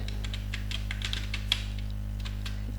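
Keys tapped on a computer keyboard while words are entered into Microsoft Word, a steady run of light clicks over a constant low electrical hum.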